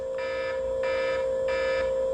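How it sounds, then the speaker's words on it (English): A Wasserstein smart home security alarm sounds close by, a continuous tone with a pulsing layer that swells in repeated bursts about every two-thirds of a second. "So this alarm comes on."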